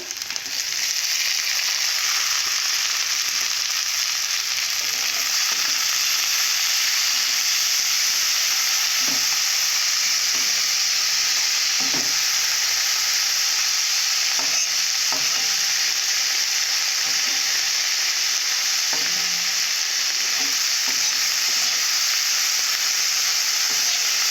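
Green chilies, coriander leaves, ginger, garlic and chopped tomato fry together in a pan, a steady loud sizzle throughout with occasional soft stirring knocks, and no talk.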